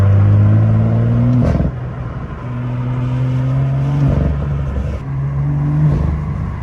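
An original BMW M2 engine revs hard through the gears, its rising note climbing in three strong pulls, each cut off by a sharp shift before it builds again. The sound is loud and close, with no talking.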